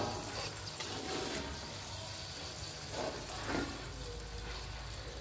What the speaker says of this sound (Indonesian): Ini ditumis sampai agak kering ya.